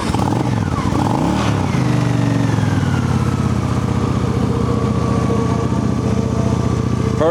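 A Honda Shadow ACE VT750CD2 motorcycle with factory exhaust and about 14,778 miles fires up, revs briefly, then settles into a steady, loud, close V-twin idle that carries on alone.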